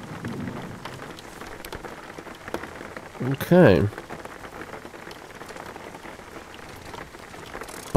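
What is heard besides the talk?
rain falling in the video game Jalopy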